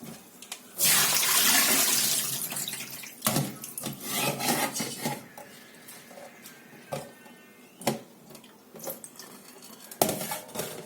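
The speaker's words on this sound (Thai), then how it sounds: "ล้างแค่เอาฝุ่นออก" Home-grown ivy gourd leaves washed under running water in a kitchen sink, with splashing, rubbing and occasional clinks of dishes, close and moderately loud.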